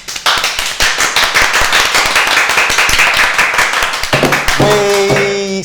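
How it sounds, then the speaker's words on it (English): Studio audience applause and clapping, dense and loud for several seconds, then fading out as a musical sting with tonal notes comes in at the end. "Applause, please."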